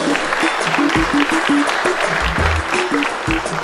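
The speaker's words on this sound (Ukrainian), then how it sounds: "зараз ми просимо ваші аплодисменти" Audience applause at a Peugeot showroom presentation, steady dense clapping throughout with musical tones running underneath.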